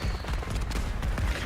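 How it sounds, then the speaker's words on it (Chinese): Rapid crackling bursts from a firework wand in the game Hogwarts Legacy, dense popping and fizzing sparks over a low rumble, loud and continuous for the whole moment. "原来是烟火魔杖"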